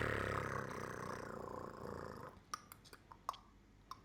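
During a tabletop fantasy role-playing session, a human voice imitates a big cat's growl: a low, rough, rumbling snarl for about two seconds, then it trails off into a few faint clicks and taps.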